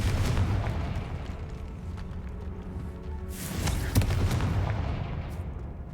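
A Confringo blast spell explodes in the Hogwarts Legacy video game, a loud booming burst with a sharp crack near the middle over a continuous rumbling game soundscape.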